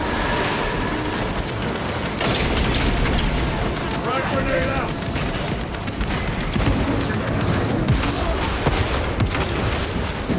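Frag grenade blast and rapid gunfire in the Warhammer 40,000: Space Marine 2 video game, a dense, continuous roar of battle noise with overlapping shots and booms, loud throughout and mixed with voices.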